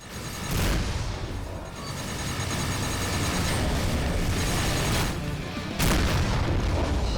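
Heavy booming blasts from a missile strike in the space combat game Rebel Galaxy Outlaw, a sustained loud roar with sharper bursts near the start and end, no voices.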